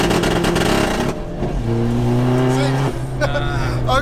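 A 600bhp 1.9 TDI Seat Ibiza on a drag run without nitrous roars loudly at close range, with engine pitch climbing through held gears, a brief break at a shift, then revving again under bits of talk.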